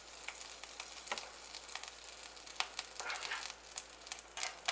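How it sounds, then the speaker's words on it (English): Pancake batter for flapjacks frying in butter in a pan, a quiet steady sizzle with soft crackling pops scattered across it. "we want to cook them until they're a beautiful golden brown either side"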